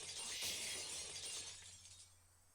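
Glass window pane shattering as a sound effect in the Higurashi video game, one loud crash of breaking glass whose bright tinkling debris decays over about two seconds, heard alone.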